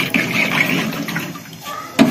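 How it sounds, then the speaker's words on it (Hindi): Water from buckets gushes into a large cooking pot for a party meal, a steady splashing pour lasting about two seconds with a brief louder splash at the end. "छह बाल्टियां पानी डालनी है।"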